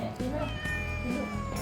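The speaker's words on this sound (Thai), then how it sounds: "ก็จะมีเสียงแมวร้องในบ้านเรานะคะ" A cat meows repeatedly inside a house, where stray cats are being fed in the morning; the calls come close and clear over a steady low background hum.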